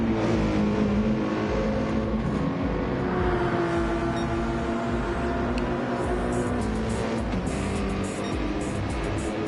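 Two Ferrari race cars dice closely at Daytona, their engines a loud sustained roar with shifting pitch as they rev and accelerate together on track, without talk.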